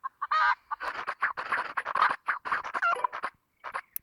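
A series of rapid chicken clucks and squawks in the video game WildCraft, in bursts, fairly close and clear, with short gaps between the calls.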